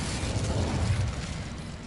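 An Incendio fire spell in Hogwarts Legacy sets off a loud, rumbling whoosh of flame with a low, heavy roar that swells and then fades slowly, with no talk.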